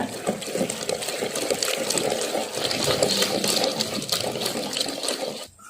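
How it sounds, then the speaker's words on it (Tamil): Wet, squelchy churning of cooked palak spinach with a hand churner, a steady rapid mashing and swirling that continues without pause, then stops abruptly at the end. "மற்ற வச்சு கீரையை நல்லா கடைஞ்சி எடுத்துக்கிறேங்க."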